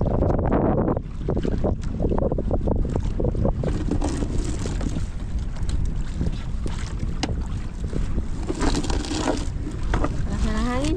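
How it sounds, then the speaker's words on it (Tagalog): Strong wind at sea buffets the microphone aboard a small boat in a continuous, roaring rush that gusts up and down. Brief voices are heard near the end. "Lakas na ng hangin."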